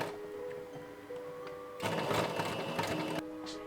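A sewing machine top-stitches costume fabric for a Wednesday Addams cosplay: a quiet mechanical hum first, then a louder, rapid, even stitching burst lasting over a second before it eases off, close by with no talking.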